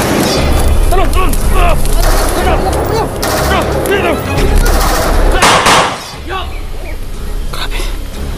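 Heavy gunfire crackles in rapid bursts and volleys with booming impacts in an intense firefight, loud and close, while people shout and talk amid the shooting.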